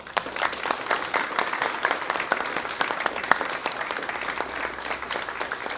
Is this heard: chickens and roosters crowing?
no